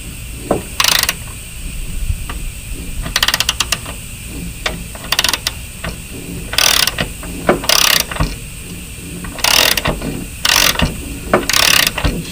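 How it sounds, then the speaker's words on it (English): The bent crankshaft of a Craftsman 21-inch lawn mower turned over by hand, producing close, crisp bursts of rapid ratcheting clicks separated by short pauses in a quiet room. "And spinning the crank over now,"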